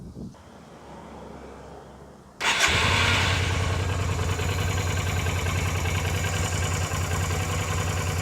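A Yamaha Virago XV250 motorcycle, its stuck choke plunger freed, cranks briefly with a starter whir, then fires and settles into a steady, even cold idle, close and fairly loud.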